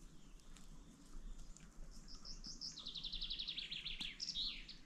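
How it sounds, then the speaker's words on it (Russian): Birdsong outdoors at a campsite beside a travel trailer: quiet at first, then a clear run of rapid high chirps and trills builds in the second half over a steady low background hum. "слышно только пение птиц"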